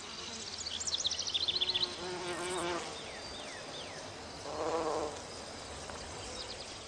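Bumblebees buzz around garden flowers, their drones rising and fading as they pass close by and move off, with no voices.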